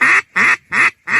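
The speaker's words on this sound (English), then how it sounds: "an Australian hunter who's trying to work a flock of Pacific black ducks" Pacific black ducks quacking loudly and close during an Australian duck hunt, four evenly spaced nasal quacks in a steady rhythm.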